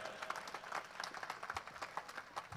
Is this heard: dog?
no